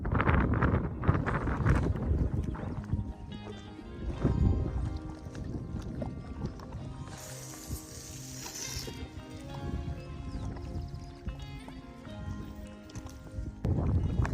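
Strong wind gusts over a choppy river while fishing, heard as heavy, close buffeting rumble that swells and eases across the span, louder at the start and end.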